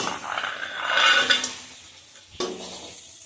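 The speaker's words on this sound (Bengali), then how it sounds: "এখন ভেজে রাখা বাদামগুলো ঢেলে দেব" Fried peanuts poured into a red spinach pitha filling in a pan, a rattling, scraping pour building then fading, followed by a single sharp clink of a utensil against the pan.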